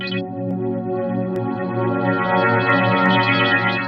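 A GR-1 granular synthesiser plays a dense, sustained tone that shimmers and wobbles as scan modulation moves it, loud and continuous with a pulsing chorus-like texture.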